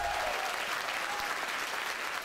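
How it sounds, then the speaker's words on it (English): Steady, dense applause fills a large hall as a crowd at a fantasy author's talk claps throughout, with no pause. "everyone clap for my mother"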